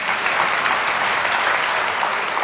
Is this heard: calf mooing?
no